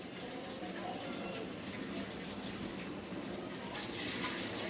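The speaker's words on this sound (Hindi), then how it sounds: "इसको मैंने पानी से अच्छी तरह धो लिया, एक छन्नी में रख लिया।" Tap water runs steadily over raw chicken held in a strainer in a home kitchen, a continuous moderate rushing and splashing that swells slightly near the end.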